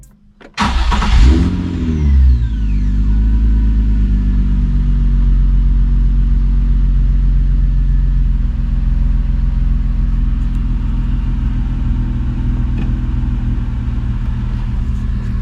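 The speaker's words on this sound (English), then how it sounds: "rev test of my car so you guys can hear how it sounds" A salvage Nissan 350Z engine cranks and catches with a sharp rising burst, then settles into a loud, steady, rumbling idle close by for a long stretch.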